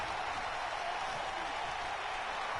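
Video game arena crowd at a WWE event in Los Angeles, a steady, dense roar of cheering that stays loud and unbroken throughout, with no pauses or voices standing out.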